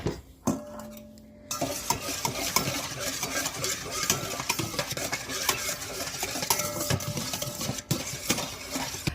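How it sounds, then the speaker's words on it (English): A warm yeast mixture for plant-based hamburger and hot dog bun dough is stirred in a bowl, with busy scraping and clinking of a utensil against the dish, near and fairly loud, with no talk. "I'm going to mix that up."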